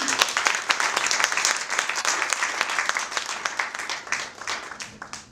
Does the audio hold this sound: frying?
no